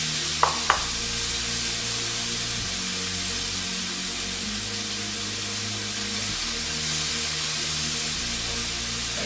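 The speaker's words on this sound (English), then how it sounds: "I'm just gonna quickly sear up a little beefsteak tomatoes." Beefsteak tomatoes searing in a hot pan, a constant loud hiss of sizzling with a couple of sharp clicks near the start and a low steady hum underneath, no talk.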